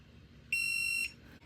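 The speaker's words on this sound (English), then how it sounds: "Now it made a beep" A single shrill electronic beep from an XTOOL heat press sounds for about half a second, clear and close over a quiet background hum.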